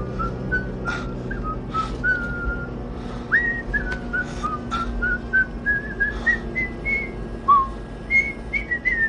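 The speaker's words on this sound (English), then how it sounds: "Johnny Cab whistles the Norwegian national anthem" A person whistles the Norwegian national anthem clearly, note after note in a steady lilting phrase, over a low background hum.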